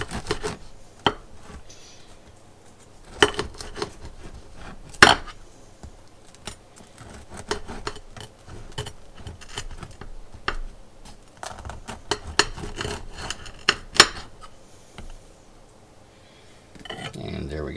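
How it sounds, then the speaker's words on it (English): A bread knife saws through a loaf of Italian ciabatta baked with Asiago cheese, giving a series of scraping, rasping strokes with a few sharp knocks against the board, close and moderately loud. "I'll take my bread knife here and slice into this."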